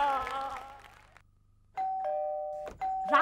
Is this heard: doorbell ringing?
yes